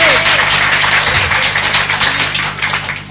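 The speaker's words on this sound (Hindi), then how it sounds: "ये छप्पर फट जाना चाहिए जोरदार ताली से" Loud audience applause fills the space, a dense and sustained clatter of many hands clapping that swells and ebbs slightly over a low steady hum, with a voice briefly audible beneath it.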